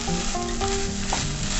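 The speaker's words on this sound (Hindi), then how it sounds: "भगर को हम सारी चीजों के साथ अच्छी तरह से मिक्स कर लेंगे।" Boiled bhagar (barnyard millet) is stirred into spices in a hot kadhai, giving a steady close sizzle with scraping spoon strokes throughout.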